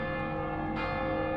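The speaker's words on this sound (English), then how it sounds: "In the distance, we can hear the bells of Viviers" Distant cathedral bells of Viviers ring out over a French town, a continuous resonant peal with layered overtones and a fresh strike partway through, heard alone without talk.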